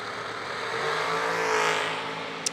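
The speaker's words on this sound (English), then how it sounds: "Marquardt left side, 453 dial-in for the Marquardt family dragster" A family dragster accelerates down a drag strip at a bracket race, a loud rising engine roar that swells and fades over a couple of seconds, heard from trackside without voices.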